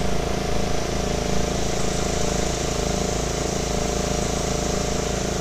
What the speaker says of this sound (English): maybe do some readings with the engine running.